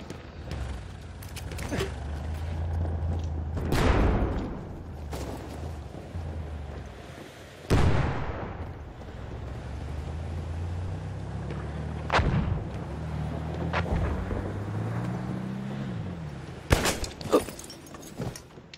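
Gewehr rifle fire in the World War I shooter Battlefield 1: several loud, booming shots spaced a few seconds apart, each with a sharp crack and rumbling tail over a low ambient battlefield drone.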